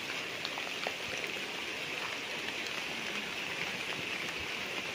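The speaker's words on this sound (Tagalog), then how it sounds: "Medyo malakas lang po ang ulan ngayon mga kapraps." Heavy rain falls steadily outdoors beside a rural property near a river, a dense, continuous hiss of drops with no break across the whole stretch.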